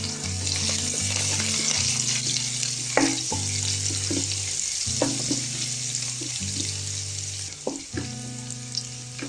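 Thinly sliced ginger and garlic with curry leaves sauté in a hot pan, a loud continuous sizzle broken by repeated spatula scrapes and knocks against the metal.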